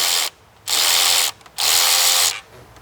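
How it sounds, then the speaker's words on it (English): Ratchet wrench loosening intake studs on a car engine, clicking in two long loud bursts separated by short pauses, with no talking. "I like to take them out"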